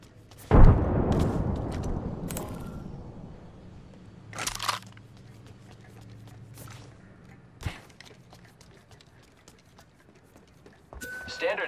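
A frag grenade detonating in Apex Legends: one loud, close blast at the start followed by a rumbling decay, with a few sharper impacts and crunches later and someone talking over the action.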